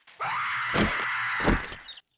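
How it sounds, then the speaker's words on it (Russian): A Screamer zombie in the video game 7 Days to Die lets out a long, loud, harsh shriek that surges twice, close and alone, then cuts off abruptly. "Вот только стоит ей заметить игрока, как она начинает кричать."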